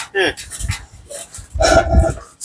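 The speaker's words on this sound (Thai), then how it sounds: "น้องลอยมาเห่าไปชั้นอ่ะนะ" A pet dog gives short barks and panting sounds close by, the brief yelps mixed with a person talking over them.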